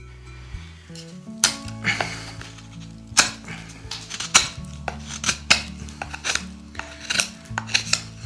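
A BPS Knives Colibri folding knife bites deep into wood, producing a string of sharp, close scraping and clacking strokes in an irregular rhythm, loud and up front with no talking.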